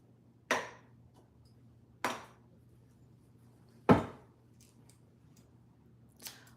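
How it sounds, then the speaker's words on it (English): Knife chopping food on a board while preparing tacos: three sharp, separate cuts spaced a second or more apart, fairly close and clear, plus a fainter fourth knock near the end, over a low steady hum with no talking. "I'm gonna cut this up here"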